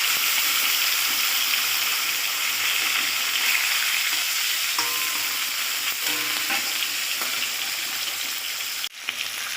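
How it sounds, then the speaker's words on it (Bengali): Marinated koi fish frying in oil, a steady dense sizzle throughout with faint stirring clinks and a brief thump near the end, no voices. "এবার আমি দেখো কই মাছগুলো দিয়ে দেবো, কিন্তু হালকা করে ভেজে নেব"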